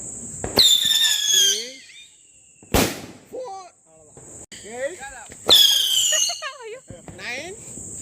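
Sharp firecracker bursts crack several times with whistling squeals between them, and voices talk and exclaim around the pops.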